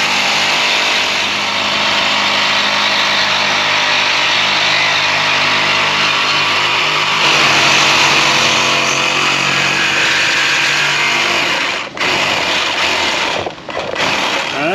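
A power saw cuts through a bent frame bolt on a Ford Transit 3.7 with a loud, continuous high-pitched whine, close up. The tone holds steady, then dips and cuts out briefly near the end.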